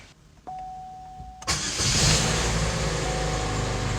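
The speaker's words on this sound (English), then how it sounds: "this is going to be the first startup with the new mounts on it" A 2002 Pontiac Grand Am with new engine mounts cranks briefly and its engine catches, settling into a steady loud idle heard close up after a faint tone and click.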